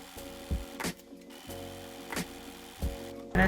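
A sewing machine stitches down quilt binding with a narrow zigzag, running in short bursts of rapid mechanical whirring separated by brief pauses and clicks, close and clear with no talking.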